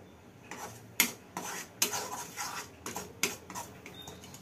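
A spoon scrapes and stirs Mysore pak batter in a metal pot, giving a series of rhythmic clinks and rasping strokes about twice a second, close and moderately loud.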